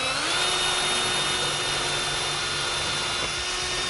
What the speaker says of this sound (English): Let's start off with an 1/8-inch drill bit.